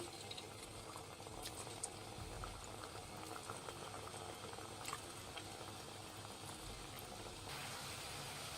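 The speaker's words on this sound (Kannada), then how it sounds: "ಎಣ್ಣೆ ಬಿಸಿ ಆಗಿದೆ. ಎಲ್ಲ ಒಂದೊಂದೇ ಹಾಕ್ಕೊಳ್ಳೋಣ" Kodbale dough fries in hot oil on a low flame, giving a faint, steady bubbling sizzle with occasional soft pops and no talking.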